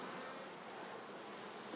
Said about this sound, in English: There's a lot more bees in this hive.